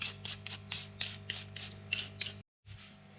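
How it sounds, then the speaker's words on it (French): A hard brush scrubs a Truvativ GXP bicycle bottom bracket in quick, close, rasping strokes that come in regular bursts, then a brief pause and one more scrub. "pour les nettoyer, on prend une brosse dure"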